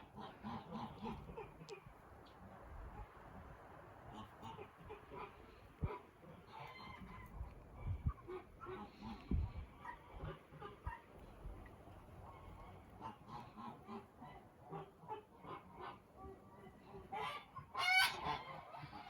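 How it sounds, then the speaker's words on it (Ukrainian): Geese that have been separated honk repeatedly at moderate distance, a noisy cluster of calls rising and falling, with a louder burst near the end. "Кричать, кричать гуси, бо ж розділили їх."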